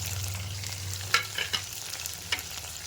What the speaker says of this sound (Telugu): కట్ చేసి ఉంచుకున్న వెజిటేబుల్స్ అన్ని అన్నీ వేసేసుకోవాలి